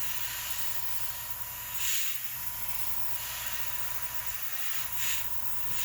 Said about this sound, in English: then let off the paint and just blow air